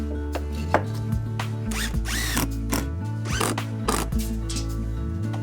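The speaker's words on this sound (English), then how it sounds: "Screw a piece of lumber onto each side of the counter to fasten it." A power drill drives screws into lumber to fasten it to a bay-window counter, making repeated whirring bursts that rise and fall in pitch, with short pauses between runs, close by.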